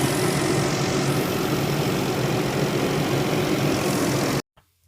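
A van engine idles after repair work, a loud, steady, dense rumble that holds even for several seconds before cutting off abruptly into near silence.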